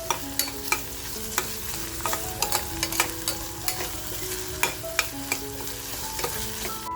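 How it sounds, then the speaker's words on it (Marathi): Crushed garlic and ginger sauté in hot oil for a goat mutton curry, with a steady sizzle broken by frequent sharp scrapes and clinks of a spoon stirring in the pan; close and alone, no talk. "म्हणजे लसणीतला आणि आल्यातला जो कच्चापणा आहे तो छान असा तेलामध्ये परतला जाईल"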